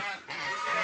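A brief, loud honking call from a duck, nasal and close, on a village farm.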